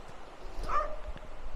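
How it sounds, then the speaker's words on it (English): A single short bark from dogs playing down on a beach, heard at a distance over outdoor wind noise on a coastal path. "some dogs having fun down there on the beach."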